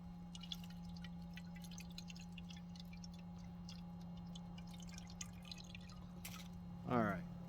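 Water pours into a Kelly Kettle outdoors, a faint, steady trickle with drips under a constant low hum, ending in a brief louder splash near the end.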